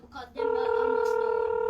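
Telephone keypad dialing tones precede a steady dual-pitch tone that holds on the line after a short burst of voice, fairly loud and close.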